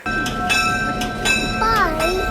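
A train sounds nearby with a steady tonal horn-like drone and rhythmic clunks, while a voice chimes in over it.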